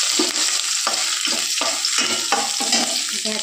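Cumin, ginger, garlic, red chillies and curry leaves fry in hot oil with a loud, bright sizzle, while a spoon scrapes and stirs the pan in repeated strokes about every half second.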